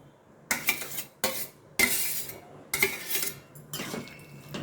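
Fried potatoes tumble into a cooking pot with four or five sharp clattering bursts of utensil against metal, close by and separated by short pauses.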